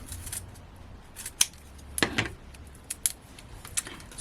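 Scissors snip through 2mm foam craft pads, cutting them in half, with several crisp close cuts and small handling clicks in a quiet room.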